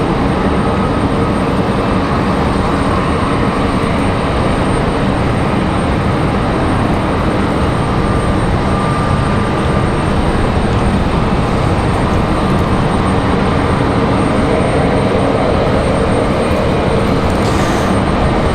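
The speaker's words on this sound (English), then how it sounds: "Sounds like we got an A220 on the move from Terminal 1 side." An Airbus A220 airliner taxiing away from Terminal 1 at Raleigh-Durham airport, a loud continuous engine roar and broad rumble that holds steady throughout, with wind noise mixed in.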